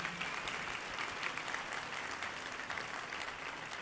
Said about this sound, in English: So once again, a round of applause again